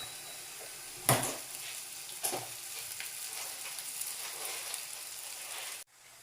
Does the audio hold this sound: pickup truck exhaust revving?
no